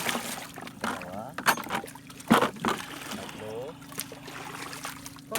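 Freshly caught fish from a night of hook-and-line fishing are rinsed and sloshed in water, with soft splashing and trickling that continue under steady nearby talking.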